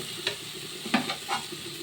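Spice paste sizzles steadily in hot oil, fried until the oil separates, with a few short scraping stirs cutting through the hiss.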